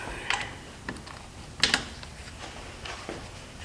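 A socket wrench on a Yamaha 250 Timberwolf ATV gives a few brief, close ratcheting clicks spread over a few seconds in a quiet workshop.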